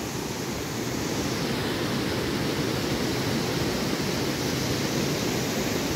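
Water of the Khadu stream rushing steadily, a dense continuous broadband roar without breaks, close and loud, no voices.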